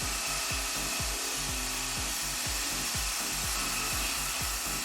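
The outside of an apple wood bowl being sanded on a woodturning lathe, a continuous dense abrasive hiss over a low rhythmic thumping as the spinning wood turns, steady and close with no speech.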